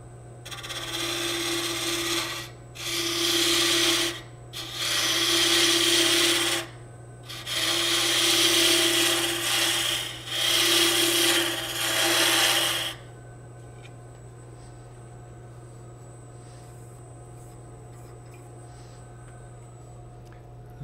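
A wood lathe chases a thread in five bursts of rough, rasping cutting over a steady motor hum, separated by short pauses, then the motor hums on alone after the cutting stops.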